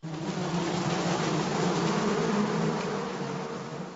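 Bees buzzing around a beehive, a close, continuous droning hum that holds steady and fills the whole stretch without pause.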